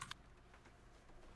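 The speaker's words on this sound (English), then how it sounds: "I've got like a Razer keyboard" Keystrokes on a Razer computer keyboard, a quick close clack at the start and then a soft, faint run of typing.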